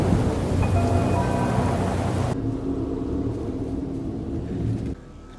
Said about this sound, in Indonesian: Hujan pun turun di wilayah itu